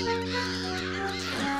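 In a SpongeBob cartoon, several clams squawk together in a harsh, caw-like chorus that stays loud and continuous for a moment before trailing off.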